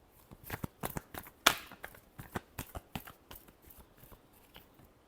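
Tarot cards being shuffled in a quick, close series of crisp riffling flicks, with one sharper snap near the start and softer flutters trailing off, no voices.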